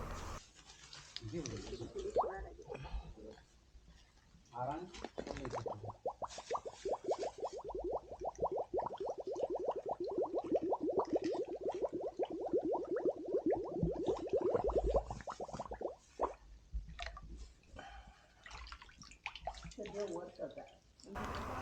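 Water from a newly dug well pours into a bottle, producing a rising gurgling fill tone in the middle section, quiet and close, with people talking before and after.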